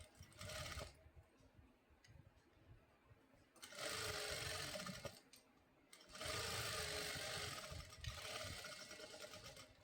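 A sewing machine stitches a blouse piece in two long, loud runs separated by quieter pauses of handling and repositioning the cloth.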